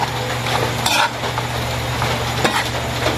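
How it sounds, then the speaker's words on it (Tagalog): Boiled vinegar and radish are stirred in a cooking pot, a utensil scraping and knocking against the pot over a steady hot simmering hiss, with a couple of sharper clinks. "Pwede na siyang haluin."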